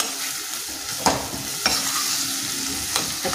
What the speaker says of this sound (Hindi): सभी चीज़ों को डाल के हम 1 मिनट तक चला लेंगे अच्छे से।